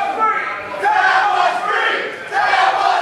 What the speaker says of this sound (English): Crowd not liking the count there